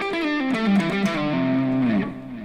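A short distorted electric guitar lick on the pentatonic scale runs through a handful of descending notes, ending on a sustained bent note that fades.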